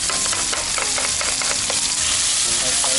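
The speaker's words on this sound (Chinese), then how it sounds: "炒一下先。" Crumbled tofu stir-fried in a pan during outdoor camp cooking, a steady close sizzle with repeated scraping stirs of the spatula, no talking.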